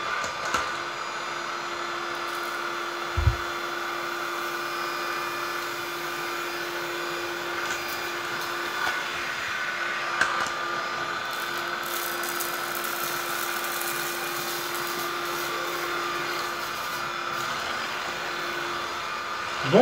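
A steady whirring drone comes from an H.Koenig EasyClean UP600 bagless 2-in-1 stick vacuum running with its brush roller, holding a constant close hum throughout with a single faint knock early on.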